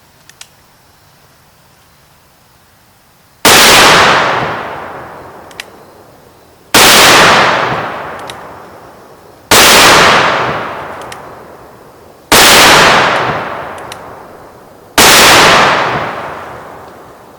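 A Magnum Research BFR revolver firing 405 grain ammunition sounds out as five very loud, sharp blasts, each ringing out with a long decaying echo, spaced a few seconds apart after a quiet opening with light clicks.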